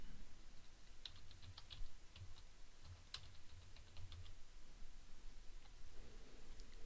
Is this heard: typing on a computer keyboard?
yes